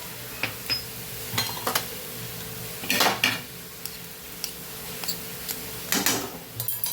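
Spicy Kathiyawadi-style green chili curry with fresh coriander being stirred in a pan, a spoon scraping and clinking against the metal in scattered bursts over a faint sizzle, close and alone.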